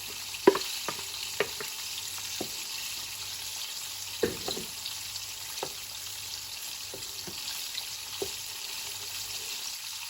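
Blended ingredients sizzling and frying in a pan for Ghana tomato gravy, a steady soft hiss broken by a few sharp clinks and taps of a utensil, close and alone with no talk.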